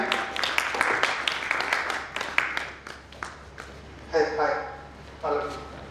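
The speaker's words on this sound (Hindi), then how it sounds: "तो जोरदार तालियां बजा के डॉक्टर अमित का स्वागत करें." An audience applauds to welcome a speaker at a stage seminar in Indore, with a burst of loud, scattered clapping that fades as a voice talks over it.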